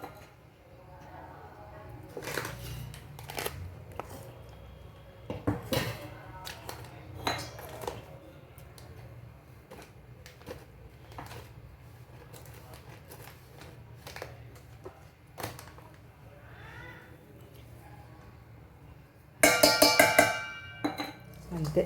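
Salt and chili being stirred into a gooseberry pickle in a dish: scattered clinks and scrapes of utensil against the dish recur throughout, with a louder burst of clattering near the end and faint background noise.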